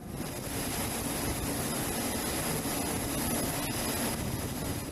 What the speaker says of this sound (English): the jet blast is directed upwards and away from the other aircraft and personnel